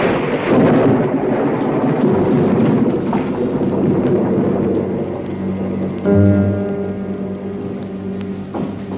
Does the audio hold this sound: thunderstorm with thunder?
yes